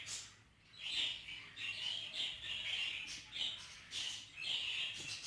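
Budgerigars chirp in a breeding aviary, a steady stream of faint, high twittering calls that overlap one another with no voices present.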